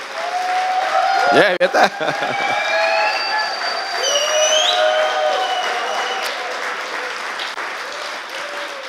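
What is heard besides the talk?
audience applause in church session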